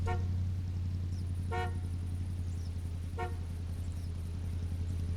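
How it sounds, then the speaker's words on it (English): A car horn honks in the video game theHunter Classic, sounding in a few short separate bursts over a steady low engine idle. "Get in the car, honk the horn."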